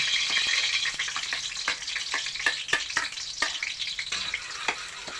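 Chopped garlic sizzles steadily in a hot kawali (pan), cooked as the base for ginataang suso, with a bright continuous crackle and scattered sharp clicks of a utensil stirring against the pan.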